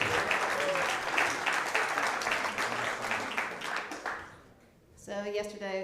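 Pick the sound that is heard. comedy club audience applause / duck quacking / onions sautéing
comedy club audience applause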